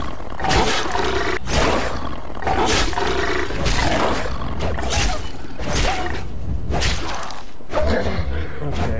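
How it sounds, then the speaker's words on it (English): Loud, repeated snarling roars and growls from a wolf attacking in the survival game Savage Lands, mixed with sharp swipes and impacts in a dense, continuous fight. "oh, there's a wolf"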